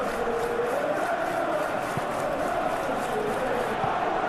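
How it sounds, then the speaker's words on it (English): Stadium crowd murmuring and cheering steadily throughout a simulated Chelsea vs Arsenal Premier League football match, a dense, continuous wash of spectators with no standout peaks. "The crowd appreciates good football all round there."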